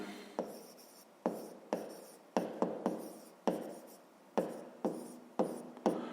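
A pen scratches out an equation by hand for a fifth-grade maths problem, with around a dozen short, crisp strokes in irregular bursts, heard up close and without any voices.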